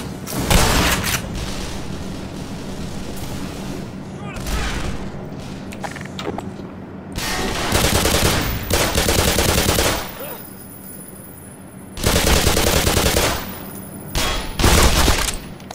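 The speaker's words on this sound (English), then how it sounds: "I use grenades pretty much for this whole firefight here" Black Mesa firefight with bursts of rapid gunfire and heavy grenade booms arriving in loud clusters, separated by short lulls of lower rumble and clatter.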